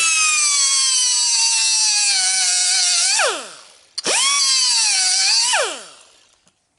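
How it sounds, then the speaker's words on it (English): A cheap die grinder cuts a pin off a brass pop-off valve, giving a loud, steady high whine in two long bursts, with the pitch sagging and dropping away at the end of each cut. "I'm using a die grinder. This is a cheapie."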